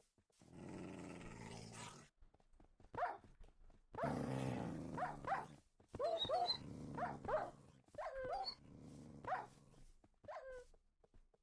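Dogs in the Minecraft video game growl and bark in a combat deathmatch, several short bursts and snarls repeating through the scene at close range, with a few whimpers and no talk.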